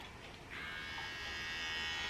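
A small electric trimmer switches on and hums with a steady, high-pitched buzz that holds evenly for a couple of seconds, close and fairly quiet.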